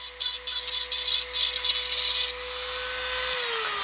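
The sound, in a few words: rotary tool carving indents into plastic dollar store toy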